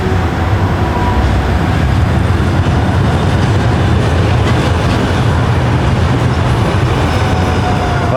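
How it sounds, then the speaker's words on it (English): A train crossing a bridge rumbles steadily past, a dense continuous roar of wheels and rail noise with faint clanking and vibration, loud and close throughout. "Vibration is the train going over the bridge."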